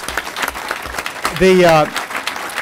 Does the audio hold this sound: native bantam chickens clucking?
no